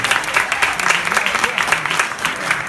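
Applause from the audience at the Miss Cameroun France 2017 pageant evening, a short, steady burst of many hands clapping that stays loud and close throughout, with a faint voice beneath.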